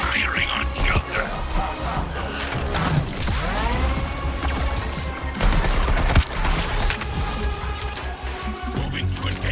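Sustained automatic gunfire and crashing impacts during a Suicide Squad game fight, loud and continuous, with character voices calling out over the din.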